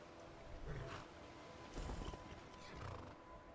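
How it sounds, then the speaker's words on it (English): A horse whinnies and snorts in a modded Skyrim game, with hooves clopping faintly beneath, the calls rising briefly twice over a steady background. "Here comes my horse."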